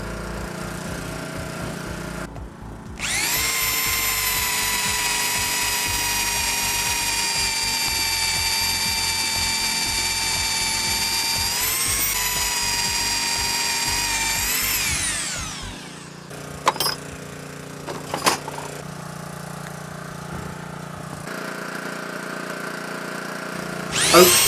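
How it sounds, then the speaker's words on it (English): Power drill boring through hard oak wood, a sustained high whine that strains and drops in pitch under heavy pressure before cutting off, followed by a few brief knocks. "Oak is a very hard wood. Just look at the pressure Phil has to put on the drill to force it through."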